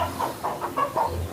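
A Poland Lake Colombian crested chicken, an ornamental crested breed, gives a quick run of about five soft, close clucks in an even rhythm.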